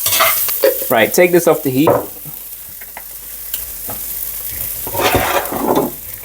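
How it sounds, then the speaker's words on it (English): Garlic and ginger sizzle in a hot pan while a spoon stirs them, the frying audible under a person talking in the first seconds and a softer sizzle continuing afterward. "Give that a good old stir."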